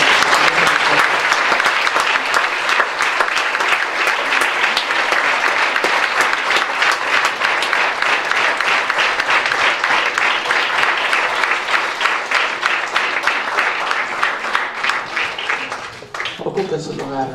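Church congregation applauding in praise during a memorial tribute service, a dense, steady wall of clapping that fills the whole stretch and fades slightly near the end.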